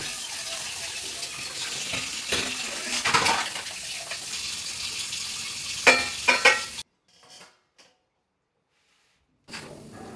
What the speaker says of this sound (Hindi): मैंने बर्तन भी हाथों हाथों धुल के हटा दिया